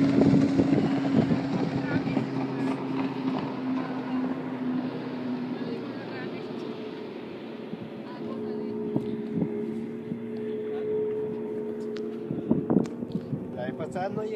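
A motorboat runs on the water, its engine a steady hum under wind buffeting the microphone, with voices talking over it and a few knocks near the end.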